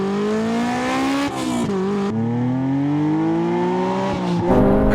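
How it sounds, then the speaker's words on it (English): Drag-racing cars, one turbocharged and one running VTEC, launch from a rolling start in a roll-in drag race; loud engines rev and climb steadily through the gears with sharp shift dips, sustained and close. "Let's do the old roll-in drag race."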